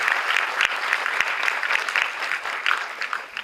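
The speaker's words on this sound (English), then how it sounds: "let us welcome him with a very big round of applause." An evening lecture audience gives a dense round of applause to welcome an architect to the stage, steady clapping with a few sharper individual claps standing out, no talk over it.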